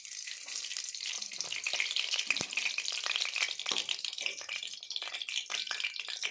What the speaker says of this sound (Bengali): কড়াইতে পরিমাণ মতো তেল দিয়ে দিলাম মাছ ভাজার জন্য